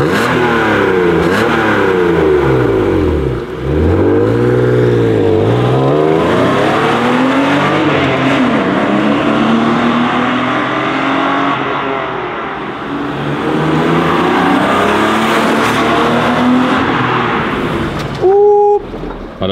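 BMW E36 328i straight-six fitted with a Fox rear silencer revs hard on a dyno, rising through long wailing sweeps, dropping off and climbing again, loud and close with no talk.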